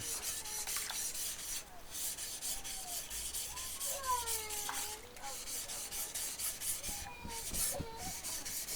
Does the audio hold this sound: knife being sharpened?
yes